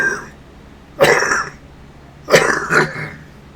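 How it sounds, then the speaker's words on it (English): A man in his sixties with COPD coughs and clears his throat, two separate fits at close range, the second a quick double cough, with quiet between them. "I cough a lot because I have COPD"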